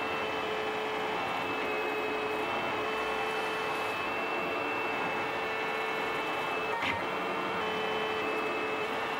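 A 3D printer prints a half-size die, making a steady, quiet mechanical hum with whining stepper-motor tones and a brief click near the end, with no talking.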